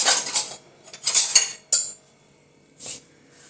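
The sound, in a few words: spoon scooping triphala churna powder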